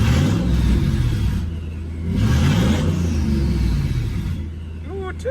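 A twin-turbo V8 swapped into a Ford Focus revs loudly up close, its deep rumble rising and falling through a couple of throttle blips.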